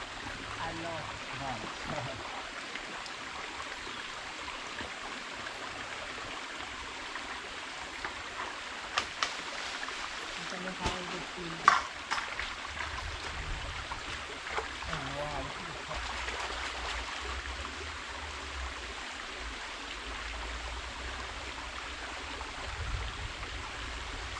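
A river streams steadily in the background, a continuous broad wash of flowing water with occasional small splashes, while voices talk intermittently over it.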